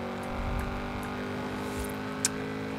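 A Lamborghini Urus in the video game Forza Horizon 5 holds a steady, droning high-rpm engine note, moderately loud and continuous with little change in pitch.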